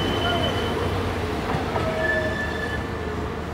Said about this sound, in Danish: Her har vi Arriva-toget.